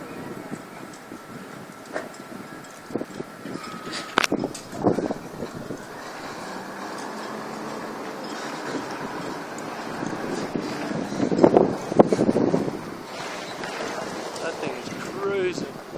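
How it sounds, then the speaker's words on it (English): Microburst storm with violent wind and heavy rain, a steady roaring wash of wind noise buffeting the microphone, with gusty surges and a louder blast near the end; people speak excitedly over it. "That's a microburst. That's what a microburst is."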